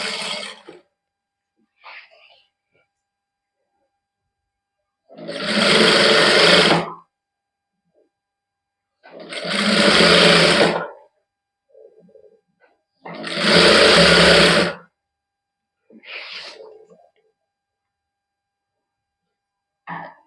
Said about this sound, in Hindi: इस तरह हौली हौली सिलाई लाई जावे